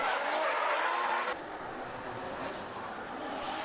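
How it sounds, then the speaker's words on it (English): Drift cars accelerating out of the carousel at a Lanier Race Plex competition, including a blue Nissan S13, roar as a loud, steady engine wash with tire hiss, which drops suddenly to a lower, more distant drone partway through. "Both drivers coming off the carousel, accelerating towards outer zone 1."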